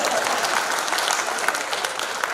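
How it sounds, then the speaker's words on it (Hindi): An audience at a Hindi comedy poetry show breaks into steady, full applause, a dense wash of clapping that carries on evenly throughout. "तो ताली बजाइए"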